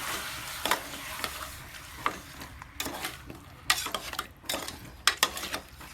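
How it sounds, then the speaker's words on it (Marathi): Chicken and turmeric are stirred and mixed in a pot with a spoon, giving repeated scraping strokes and clinks over a low sizzle, close and fairly loud, without voices. "आता चांगला असं मिक्स करून घ्यायचं"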